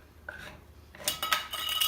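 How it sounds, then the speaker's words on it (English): Canned goods being opened in a home kitchen while making green chile chicken, light metallic clicks and scrapes of tin, quiet at first and then a brighter cluster of rattling metal sounds. "I'm just opening all my canned goods"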